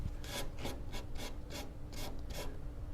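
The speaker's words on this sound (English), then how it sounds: "we just give it a couple more gentle passes here with the" Sandpaper rubbed by hand over a carbon fiber diffuser fin from an Acura NSX, seven gentle, evenly spaced rasping strokes, close and quiet, with no talk.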